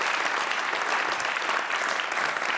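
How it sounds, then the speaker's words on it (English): Audience at the Amsterdam Science & Innovation Awards 2023 applauding the jury, a dense, steady wash of clapping from a large crowd throughout. "An applause, please, for our jury"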